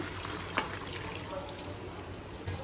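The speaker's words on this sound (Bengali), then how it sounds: "এবার দিয়ে দেব জল" Water is poured into a pot of braised meat and potatoes, making a short, continuous rushing splash at moderate loudness with a faint clink.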